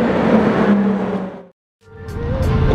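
A white Nissan GT-R drives by with a loud engine drone that fades out, drops to a brief near silence, then swells again as the car revs nearby.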